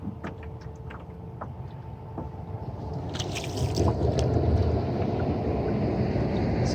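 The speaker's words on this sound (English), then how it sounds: "So I'm gonna paddle along for a bit." A boat is paddled on open water, with soft, intermittent splashes and water sloshing against a background of wind. The sound grows slightly louder and denser partway through.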